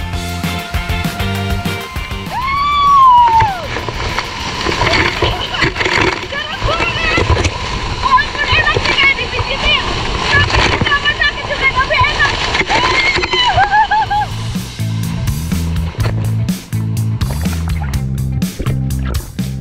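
Water splashes and sloshes continuously around a waterfall's pool, with a steady rushing background and brief high chirping sounds.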